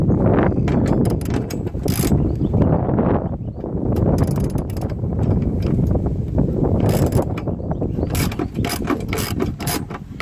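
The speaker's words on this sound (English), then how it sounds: "I'll get the ratchet on here and the wrench on this side. Go ahead and tighten those down real quick." A ratchet and wrench tighten bolts while a Go Rhino Dominator D4 step is mounted on a Ford F-250 truck, giving busy metallic clicking and rattling bursts that run loud and close throughout.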